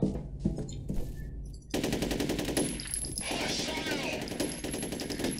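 Sustained machine gun fire in the FEAR video game erupts after a short lead-in and continues as a loud, dense, rapid stream of shots, with game voices in the background.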